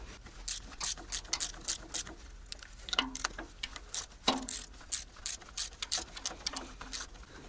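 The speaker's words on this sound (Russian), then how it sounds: "Один болтик выкрутил, сейчас выкручиваю второй" Small metallic clicks and ticks from a wrench backing out bolts on the fuel injection pump drive of a T-74 crawler tractor, close up, irregular and fairly quiet, with brief taps and jingles scattered through.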